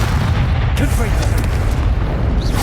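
Blasting Confringo spell explosions in Hogwarts Legacy, a dense, continuous roar of booming low-end rumble and crackling bursts that stays loud throughout, with no clear gaps between blasts.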